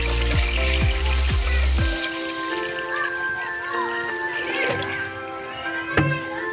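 Water is poured into a cooking pot for boiling fish, starting with several heavy glugging splashes, then settling into a continuous bright trickle and splashing that runs steadily for several seconds, close and fairly loud.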